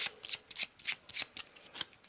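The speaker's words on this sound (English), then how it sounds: "So a bit of a shuffle." A deck of cards for the Eldritch Horror board game is shuffled by hand at close range, a quick run of crisp riffling bursts with short pauses between them.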